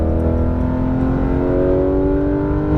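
A Porsche 911 GT3 RS on a racetrack pulls hard at full power, its engine note a loud, sustained, rising roar heard close and alone for a few seconds.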